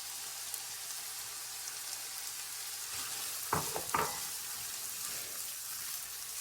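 Onions, bacon, corned beef and radishes fry in fat in a pan for corned beef hash, giving a steady, even sizzle with a couple of brief clinks of stirring midway.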